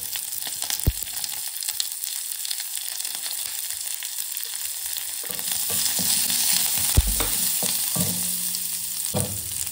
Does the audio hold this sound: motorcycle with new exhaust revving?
no